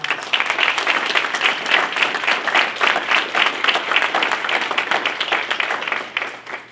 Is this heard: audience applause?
yes